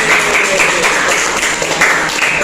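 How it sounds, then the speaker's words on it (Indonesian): Classroom applause for a student group, a steady wash of many hands clapping close and loud for the full stretch, with a brief voice faintly underneath. "Ya, tepuk tangan kelompok 2"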